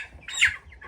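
A meat chicken squawks once in protest as it is lifted, a loud, harsh cry peaking in the middle of a short burst, with faint farmyard background around it.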